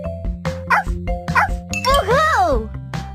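A cartoon puppy yips a few times in a Dora the Explorer video game amid game music and chimes, followed by a rising-and-falling musical swoop, with a voice speaking over it.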